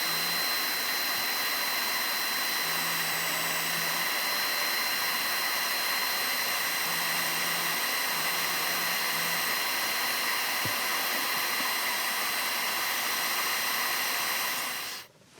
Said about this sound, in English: I'll start the sanding